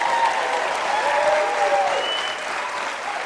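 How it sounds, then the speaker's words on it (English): Applause from a game show audience fills the room throughout, steady and dense, easing slightly toward the end. "Give yourselves a big round of applause for coming out."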